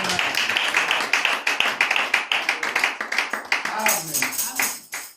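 A church congregation claps in a quick, steady rhythm with voices calling out over it, loud and close, the clapping continuing throughout with shouts of acclamation rising toward the end.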